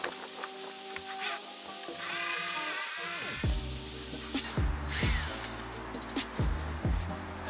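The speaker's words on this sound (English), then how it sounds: "All right, so got a drill, got a jug of water to keep the tip cool." A power drill bores into a part on a cheap E36 BMW M3 project car, water cooling the bit, grinding in several short bursts with whining pitch drops and scraping between them, close and loud.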